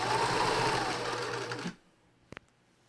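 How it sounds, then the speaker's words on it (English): A sewing machine running a straight stitch along a face mask seam, a fast steady whir for under two seconds that stops abruptly, followed by two quick clicks in near silence. "1/4 inch seam allowance, needle in, straight stitch down that side."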